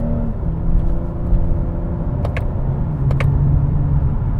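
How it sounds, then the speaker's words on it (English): A 2020 Toyota Camry TRD accelerates hard in second gear on rough Miami roads, filling the cabin with a loud, steady rumble of road and tire noise and a few brief clicks. "I hear a lot of road noise here because our roads here in Miami are crappy"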